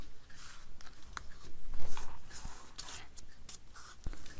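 Paper is folded by hand in a craft session, with soft crinkles, scratchy rubs and a few sharp creasing snaps coming close and irregular, with no voices.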